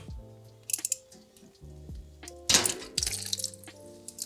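Water drains out of a home central-heating system's radiators during a flush, gurgling and trickling steadily at close range, with a few sharper splashes and knocks scattered through it.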